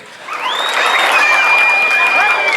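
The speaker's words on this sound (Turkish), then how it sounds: "Şimdi hep beraber alkışlar gelsin." Wedding guests applaud together at a reception, a loud, continuous wash of clapping that builds quickly and holds, with whistles and cheers mixed in.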